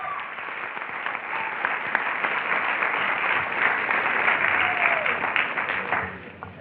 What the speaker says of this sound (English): So Miss Monica, let's give her a round of applause.